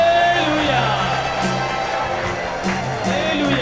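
A church congregation at a Kreupasanam prayer service claps and shouts hallelujah, making a loud, continuous crowd roar of applause and cheering voices.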